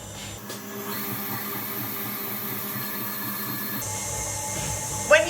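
Stand mixer running while mixing cupcake batter, a steady motor whir with a high whine that holds for several seconds and then shifts in tone near the end, with no talk.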